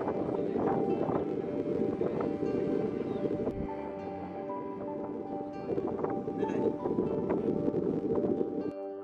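A tour boat on Thekkady lake nearing its landing, its engine a steady low drone with wind over the microphone, briefly dropping away before the rumble returns.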